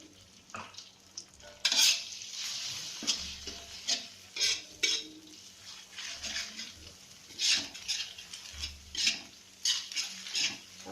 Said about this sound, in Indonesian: masukin kocokan telur. Kita aduk.